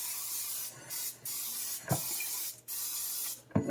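Cooking oil sprayed from a can onto a baking pan in quick hissing bursts, several short sprays broken by brief pauses, close and fairly quiet.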